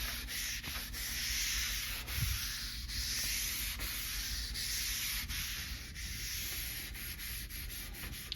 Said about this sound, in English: put one of these, this is 3M brand, but it's a scuff pad, red one. And then you're just gonna do this.